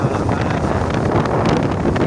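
Strong storm wind roars continuously, a dense, loud broadband rush buffeting the microphone with no let-up.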